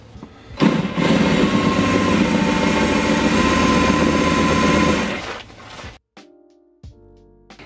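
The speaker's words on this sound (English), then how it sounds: "I don't really have a choice but to drill these out." A loud, steady power drill whine runs for several seconds, then cuts off, followed by a few short bursts and quieter clicks, as tight, corroded screws are drilled out on a Ford Mondeo ST.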